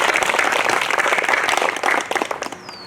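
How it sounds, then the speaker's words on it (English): Steady applause fills the hall at the LWHS graduation and quality ceremony as the graduates are honoured, dense and loud crowd clapping that thins into scattered claps near the end. "Let's give them a round of applause."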